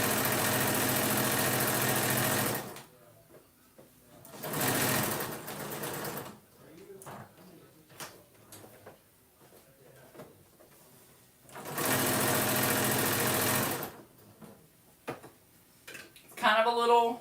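A sewing machine top-stitches a terry cloth sandwich wrap in three long, steady runs of fast whirring, with quiet handling and fabric shuffling in the pauses between them.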